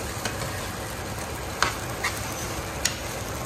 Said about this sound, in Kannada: ಸೊ ಇವಾಗ ಕಂಪ್ಲೀಟಾಗಿ ಚೆನ್ನಾಗಿ ಮಿಕ್ಸ್ ಮಾಡ್ಕೊಳ್ಳೋಣ